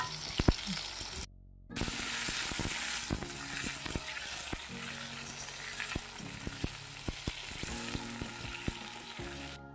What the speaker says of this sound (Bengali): তাই প্রথমে আলুগুলো ভাজা করে নিচ্ছি আমি